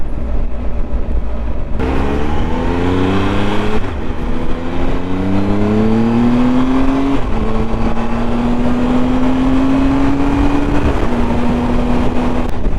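Triumph Tiger 1200 XRT motorcycle, a 2019 model, cruising on the motorway, its engine note rising through the gears in steady climbing tones under continuous loud wind rush.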